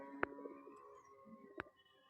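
A male Giribaz pigeon coos in two short, distinct bursts set wide apart, fairly close and soft over a quiet room background.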